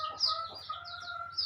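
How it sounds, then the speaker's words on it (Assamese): Chicks peep and hens cluck softly close by in a farmyard coop. The bright chirps come in short, overlapping bursts. "মুৰ্গীৰ পোৱালি"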